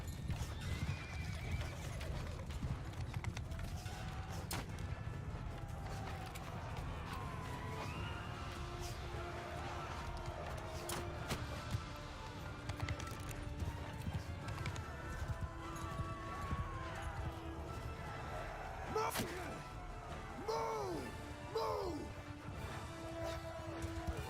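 Horses galloping in the Bannerlord video game, dense continuous hoof clatter with several neighs and whinnies over a battle din, with faint speech in the mix.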